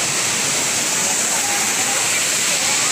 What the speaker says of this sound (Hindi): ये आप देख सकते हैं, बहुत ही अच्छा वाटरफॉल।